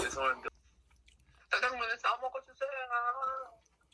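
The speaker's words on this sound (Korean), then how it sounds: "이제 짜장면 싸가지고 한 입 먹고 단무지 바로 넣어야 돼" Someone chews a mouthful of jajangmyeon black-bean noodles close to the microphone, with soft wet chewing between stretches of conversation.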